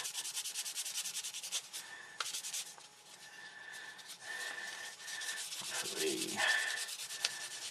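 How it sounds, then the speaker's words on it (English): A multi-grade buffing stick rubbing and smoothing the plastic surface of an Airfix 1/48 Gloster Javelin model aircraft: a steady, close scratchy hiss of back-and-forth strokes that runs continuously with slight swells in intensity. "It's a quick buff with this one because you've got the 4 different levels of buffing."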